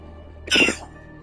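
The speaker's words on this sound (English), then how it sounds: "I have a bad cough" A single short, sharp cough from one person, close and fairly loud, lasting under half a second against a quiet background hum.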